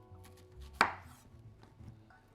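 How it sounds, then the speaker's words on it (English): A knife cuts through a vegetable on a board once, a single sharp close chop among faint quiet kitchen handling, while vegetables are prepared for a roast chicken dinner. "And actually, I'm going to chop this in half like this."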